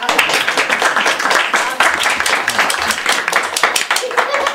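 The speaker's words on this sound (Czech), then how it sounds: "A ty všichni zatleskejte." An audience claps together at a Jára Cimrman-themed event, a dense run of quick, close handclaps that carries on throughout, with voices mixed into the clapping.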